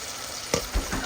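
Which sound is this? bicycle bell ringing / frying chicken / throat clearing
frying chicken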